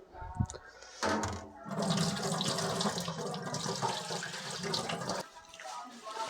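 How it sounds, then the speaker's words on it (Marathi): Water runs and splashes steadily for several seconds, like rinsing chicken under a tap, then cuts off near the end. "दोन पाण्याने चिकन धुवून घेतलेलं आहे"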